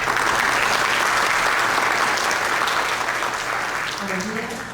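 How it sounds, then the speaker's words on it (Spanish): Loud, dense applause from an audience fills the room, holding strong and then tapering off near the end. "Le damos la bienvenida a Renata como aplauso."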